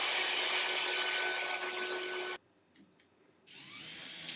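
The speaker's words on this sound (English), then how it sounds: "I'll just print a template and route them out." A loud, high-pitched router whines continuously while cutting driftwood from a template, cuts out briefly to near silence, then spins back up at a lower level.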